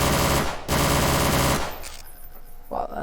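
A Desert Eagle pistol in Garry's Mod fires rapidly in a loud, dense burst of shots that runs for over a second, pauses briefly, resumes, then trails off into echoing decay.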